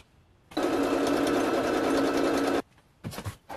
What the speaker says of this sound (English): do probably a 1/4 inch top stitch all the way around, just to make everything nice, flat, and easy to deal with